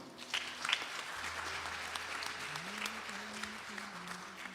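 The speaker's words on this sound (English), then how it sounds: "Please clap for her now." Faint audience clapping at a Vasant Navraatri celebration, a soft scattered patter heard from a distance with some background voices and tones.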